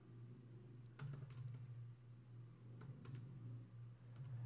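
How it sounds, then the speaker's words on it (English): Typing on a computer keyboard while coding an HTML document, with two short bursts of quick, light keystrokes over a steady low electrical hum, fairly close and not loud. "And we simply type in the path as it is within our web directory."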